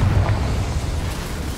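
The Confringo blasting spell in Hogwarts Legacy lands as a loud, low explosive roar that rumbles on steadily without pause.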